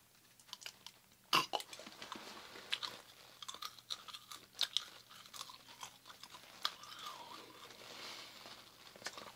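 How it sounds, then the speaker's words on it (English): Small chewy cola-flavored candies are chewed right at the mic, with crisp crunches, wet smacks and irregular bites in a quiet, close setting. "Little tiny skittle-like candies. I'm going to partake of one now."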